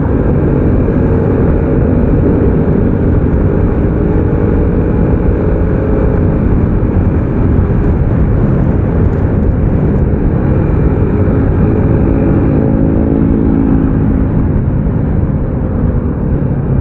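Motorcycle exhaust rumbling continuously while riding in a group on the road, a loud steady low drone mixed with wind and traffic noise, with no clear talk.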